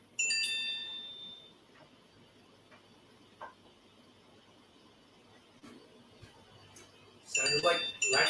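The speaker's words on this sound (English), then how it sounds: "Sounded like little ding ding notification ding dings." Several short, bright dings ring out in a quick cluster near the start, then a few faint ticks over quiet outdoor background, ending with a louder burst of mixed noise.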